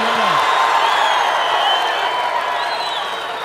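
A judo arena crowd roars and applauds in a dense, continuous wash of cheering that holds steady, then eases slightly toward the end.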